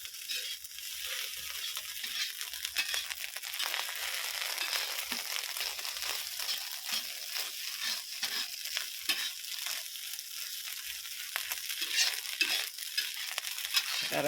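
Fried rice with mustard greens is stir-fried in a pan, producing a steady, close sizzle with constant scraping and tossing noises throughout, and no talking.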